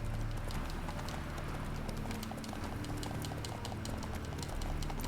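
Steady clip-clop of Geralt's horse Roach trotting in The Witcher 3, a continuous even rhythm of hoofbeats over a constant game ambience, with no talk.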